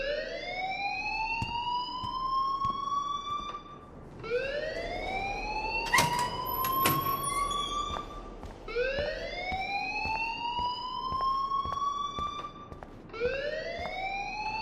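An alarm rings in the video game Life is Strange, a rising siren-like wail repeating in long sweeps about every four seconds, with a few sharp clanks in the middle, moderately loud and steady with no talk.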